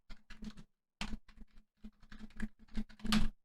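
Quick bursts of close, crisp keystrokes on a computer keyboard as code is typed, in short rapid runs separated by brief pauses.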